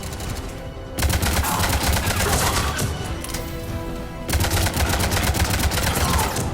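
Turret gunfire in the Mass Effect video game, dense rapid automatic bursts that rattle continuously in two long loud stretches with a short lull between.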